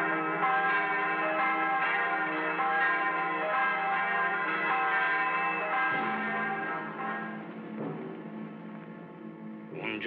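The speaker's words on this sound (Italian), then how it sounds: "Suonate la campana." A church bell rings in a 1949 Italian film scene, a sustained rich peal with ringing overtones, loud and close, slowly changing pitch partway through and fading slightly toward the end.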